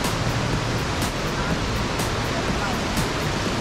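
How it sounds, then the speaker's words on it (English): Indoor double waterfall inside the Gaylord Opryland resort in Nashville, heard as a steady, dense rush of falling water filling the space with constant broadband noise and no breaks. "Double waterfall."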